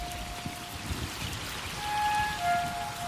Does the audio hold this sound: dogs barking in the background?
no